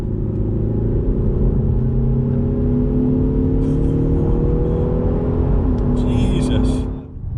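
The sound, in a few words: Audi A6 Avant 3.0 V6 BiTdi engine revving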